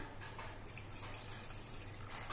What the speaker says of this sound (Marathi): आता या ताटातलं जे गरम पाणी आहे ते आपण त्याच्यात ओतून घेऊ